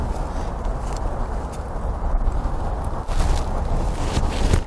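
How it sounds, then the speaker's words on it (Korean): A continuous deep, heavy rumble with low booming surges from underground blasting, heard during a tunnel exploration in South Korea, carrying on for several seconds without any voices. "폭파를 너무 크게 들리는데 너무 깜짝 놀랐어요."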